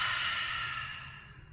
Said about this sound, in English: Full inhale. Full exhale.